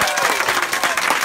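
A group of children and volunteers at a children's home in Kenya claps rhythmically on cue, a brief burst of quick, energetic claps.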